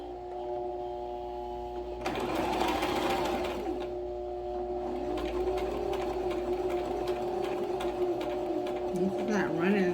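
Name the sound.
sewing machine stitching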